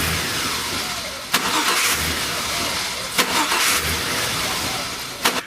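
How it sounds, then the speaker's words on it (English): A Chevy pickup engine cranks over and over without catching, a rhythmic starter churn broken by three sharp bursts as it tries to fire, close and loud. "You got a vehicle that is a hard time starting. It'll try to start, and after numerous times, it finally starts."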